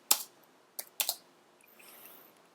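A few separate keystrokes on a computer keyboard as numbers are typed into a program, two clusters of sharp clicks followed by faint high hiss.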